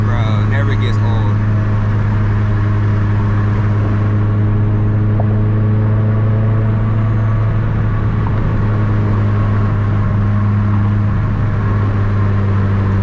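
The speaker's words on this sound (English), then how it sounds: "Hearing a turbo spooling, bro, never gets old." Modified, built Mitsubishi Evo 8 cruising at night, its engine droning low and steady with turbo spool rising and falling under road rumble, close by, while people talk over it.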